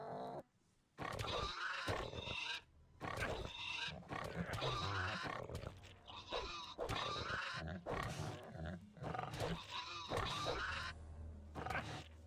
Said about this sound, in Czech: Prase!